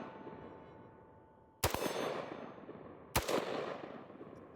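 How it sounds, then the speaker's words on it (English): Two sharp 5.56 rifle shots firing 55-grain .223 Underwood ammo at a steel target, spaced about a second and a half apart, each a loud crack followed by a ringing decay, with no talking. "let's take a few shots at that steel"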